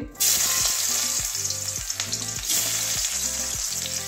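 Chopped onion hits hot oil with a sudden loud sizzle, then keeps frying in a steady crackle while a utensil scrapes and stirs the pan in regular strokes, close up and without talk.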